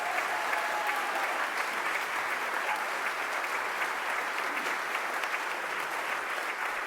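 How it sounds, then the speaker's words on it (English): A concert audience at a vocal ensemble's 10th anniversary celebration applauds its music director, a steady wash of many hands clapping throughout, moderately distant and sustained without pause. "Give her a big round of applause."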